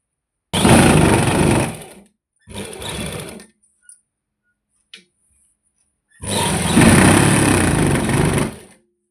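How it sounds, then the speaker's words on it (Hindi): A sewing machine stitches the seat seam of a salwar in three loud runs: a long burst, a short one, a pause with faint clicks, then another long steady run close by. "अब हम आसन की तरफ को सिलाई लगाएंगे, सलवार को बंद करेंगे।"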